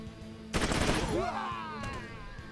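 Gunfire in the video game Troubleshooter: a sudden loud burst of rapid shots that rings out and decays, then one fainter shot, over a low game music bed.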